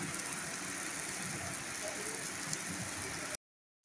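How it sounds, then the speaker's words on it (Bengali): Heavy rain pouring down outdoors, a dense, loud, steady hiss of drops on surfaces that runs unbroken until it stops abruptly. "খুব বৃষ্টি হচ্ছে"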